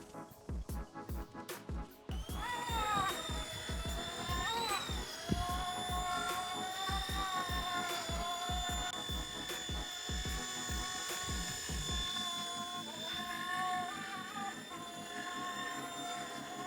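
A model MD-500 radio-controlled helicopter hovers outdoors on its first flight, its high, steady whine and rotor buzz starting after a couple of seconds and holding loud and close, pitch shifting slightly as it holds position.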